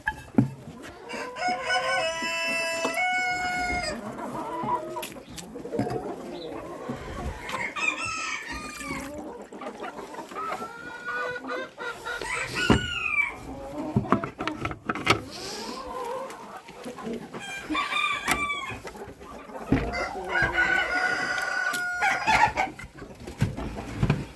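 Chickens cluck and a rooster crows repeatedly in a farmyard while birds are let out near rabbit pens, several overlapping calls rising and falling close by throughout.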